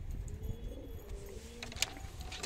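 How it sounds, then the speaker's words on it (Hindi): A red female pigeon in a breeding loft coos softly, a few low, drawn-out coos fairly close by against a quiet background with faint chirps. "ये हमारी लाल कबूतरी"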